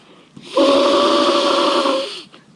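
Budget air pad inflated through a one-way valve, heard as a single loud, close, hissing, whistling rush of air lasting about two seconds before cutting off.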